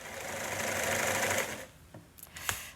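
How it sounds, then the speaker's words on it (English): A sewing machine with a tension fault runs in a steady fast whir for over a second, then stops, leaving a few sharp clicks and knocks from the mechanism. "Her sewing machine is playing up."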